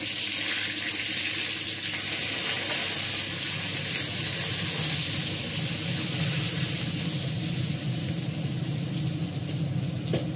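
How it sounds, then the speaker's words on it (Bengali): Eggplant frying in a pan gives a dense, constant hiss like rushing water that holds steady and close throughout, with no speech. "ততক্ষণ বেগুনটা ভেজে ফেলি।"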